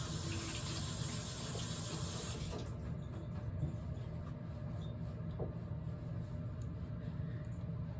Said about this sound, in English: I will wash my hands and I will make the knife cut.